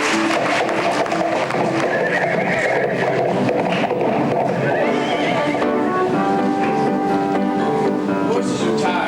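Several tired horses whinny and neigh loudly, with hooves clopping amid a busy, dense background that continues throughout.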